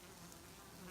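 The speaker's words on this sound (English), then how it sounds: "So y'all see the bees coming and going." Bees coming and going around a hive in a field on a warm day make a steady close buzzing drone that fills the whole short moment without voices.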